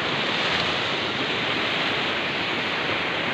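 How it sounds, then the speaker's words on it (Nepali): A flooded mountain stream in Nepal's Pyuthan valley, swollen by heavy upstream rain, roars in a dense, constant, loud wash of rushing water that fills the whole stretch without a break. "तपाईँ देख्न सक्नुहुन्छ होइन निश्चित खोलो कत्रो आएको"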